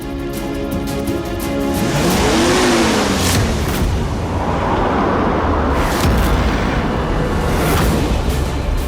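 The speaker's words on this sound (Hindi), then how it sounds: "ये कौन पागल है जो इतनी रात को इतनी तेज गाड़ी चला के आ रहा है?" A car races toward the listener fast at night, its engine whine climbing and sweeping in pitch as it approaches, then a loud sustained roar close by.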